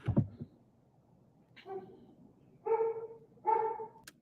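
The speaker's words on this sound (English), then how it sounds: "That sounds like a bigger dog." A large dog barks next door, a short burst of deep woofs followed by three separate louder barks with pauses between, heard from nearby and with no talking.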